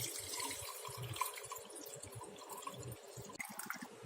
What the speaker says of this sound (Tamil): இப்போ மாங்காயில் இருக்கிற தண்ணியை இருத்துக்க போகிறோம் கொஞ்சமாக.